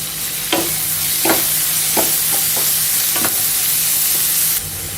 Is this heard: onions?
yes